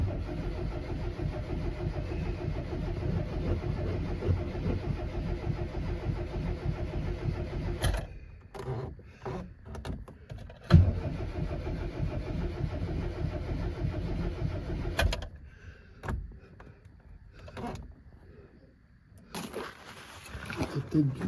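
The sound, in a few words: Austin Mini engine cranking and starting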